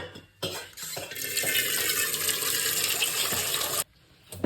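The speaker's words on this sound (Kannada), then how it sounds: "ಇದು ಭುಗನ್ ಏನು ಮಾಡ್ತೇನೆ ರೀ ಇದ್ರ ನೀರು ತುಂಬ್ತೇನೆ" Water runs from a tap into a cooking pot in a home kitchen. A steady hiss of filling lasts about three seconds before the flow stops, and no one speaks.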